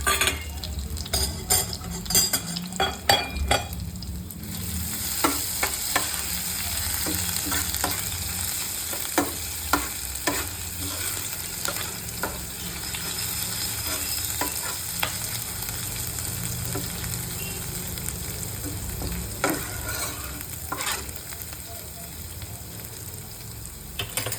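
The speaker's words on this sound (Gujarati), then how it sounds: "એમાં આપણે આખો મસાલો ઉમેરી દઈશું." Whole spices frying in oil with ginger-garlic paste for dhaba-style rajma masala: a steady close sizzle throughout, punctuated by repeated spoon clinks and scraping stirs against the pot.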